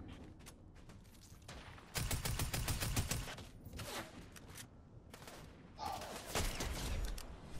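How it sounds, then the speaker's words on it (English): Rapid bursts of gunfire from a Fortnite match, several clusters of crisp repeated shots between quieter gaps with clicking weapon mechanics, moderately loud and close, with no talk. "Shots."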